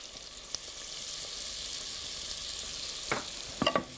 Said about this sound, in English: Mix that until you can't see any loose flour floating about